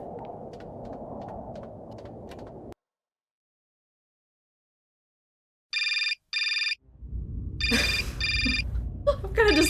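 Phone ringing in the video game Syberia: Remastered, two short electronic ring bursts after a moment of silence, followed by a louder third ring over low background music and game ambience.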